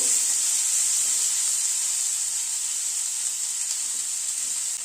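Onion fries lightly with potatoes in a hot pan, a steady, bright sizzle that hisses continuously at close range and fairly loud, with no voices.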